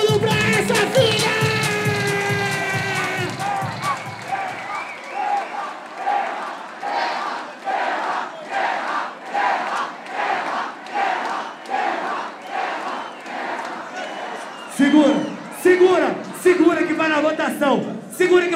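At a rap battle grand final, a crowd cheers and shouts in loud rhythmic chants that rise and fall, with an opening burst of roaring voices and another surge near the end.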